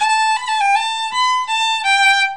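A fiddle plays a short phrase of bowed notes with a quick ornamented long E roll on a sustained note, clear and close with no talking.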